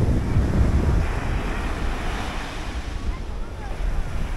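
Surf washes onto Tatadohama Beach in Shimoda, Izu. The rushing waves are close and heavily buffeted by wind noise on the microphone, strongest at the start and then settling into a steady roar.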